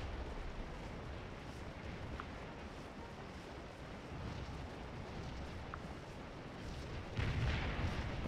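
Artillery fire in the Civil War battle game Scourge of War: Antietam rumbles as a dense, continuous low barrage with scattered distant booms, swelling to a heavier, louder burst near the end.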